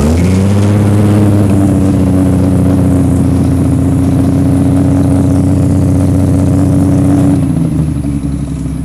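A Triumph TR6 sports car's engine revs and holds a loud, steady growl with strong low harmonics, then drops back toward idle near the end.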